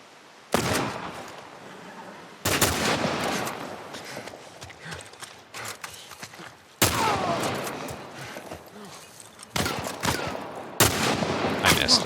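Gunfire from the video game The Last of Us Remake, with several loud, sharp shots at irregular intervals, each ringing out with a long echoing tail over faint background ambience.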